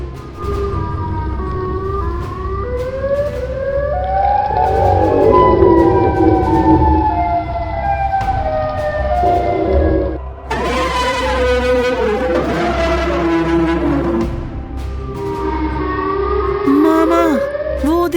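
The wailing siren call of the Siren Head creature in a horror story set in a forest, long rising and falling sirenlike tones that sweep and overlap, loud and sustained, with a shrill cluster midway and over a low steady hum.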